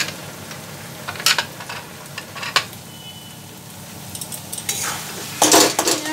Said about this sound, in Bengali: আর মশলাগুলো ভালোভাবে বেগুনের সাথে মিশিয়ে নিতে হবে, আর 2-3 মিনিট ভালোভাবে এবারে মশলাগুলোর সাথে বেগুনটাকে কষিয়ে নিতে হবে